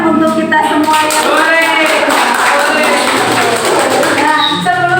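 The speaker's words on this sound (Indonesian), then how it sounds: "Tepuk tangan untuk kita semua" Applause from an audience of teachers at a training session, sustained dense clapping filling the whole stretch, steady and fairly loud with scattered voices mixed in.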